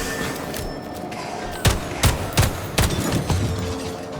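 Pistol shots in the video game Atomic Heart, several sharp single reports spaced about half a second apart over a steady game soundscape.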